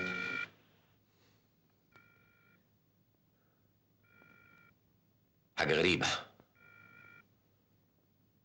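Repeated ring tones from a telephone left unanswered, sounding in short evenly spaced bursts of about half a second, with a loud burst of movement or voice between rings and a brief spoken remark at the start.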